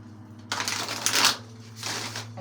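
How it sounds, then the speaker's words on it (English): Two close, quick bursts of tarot cards being shuffled, a crisp riffling flutter separated by a short pause. "I do shuffle very, very thoroughly before I start recording."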